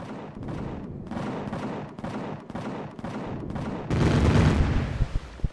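Enemy gunfire in the space game Empyrion, a steady run of loud repeated shots about every half second, then a heavier, denser burst of blasts near the end.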